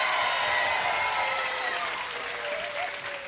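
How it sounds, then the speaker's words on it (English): A television studio audience on a Nickelodeon game show applauds, a sustained, even wash of clapping and light crowd noise that slowly tapers. "Audience, applaud if you think they were successful."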